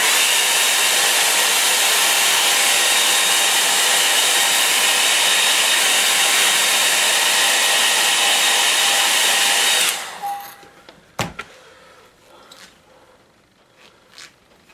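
A hair dryer blows steadily and loudly for about ten seconds to dry acrylic paint on a painting, then cuts off, leaving a quiet room with a few faint knocks and clicks.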